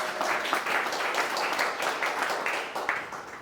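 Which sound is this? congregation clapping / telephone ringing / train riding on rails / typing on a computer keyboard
congregation clapping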